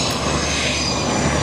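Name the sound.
F-18 Hornet jet flying past at airshow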